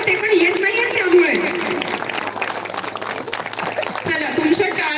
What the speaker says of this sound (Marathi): टाळ्या थांबल्या नाही पाहिजे यार